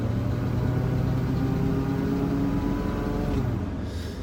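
A pickup truck with a worn-out muffler and a leaky exhaust revs steadily, its low, rough engine drone loud and continuous, then easing slightly toward the end.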